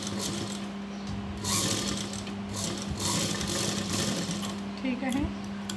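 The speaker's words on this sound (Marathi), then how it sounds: "पहिले प्रेस सिलाई द्यायची आहे ना बिलकुल काठावरती." A sewing machine stitches along the edge of a fabric strip for a night gown in short bursts with a steady motor hum underneath. Someone talks over it at close range.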